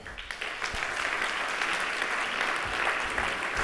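An audience at a marketing conference applauds to welcome a speaker onto the stage, a sustained, even round of clapping from many hands at moderate distance.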